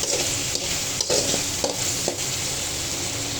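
Chicken fry sizzling in a home pan after chopped tomato goes in, a steady hiss with a few soft stirring scrapes and clinks, close and alone.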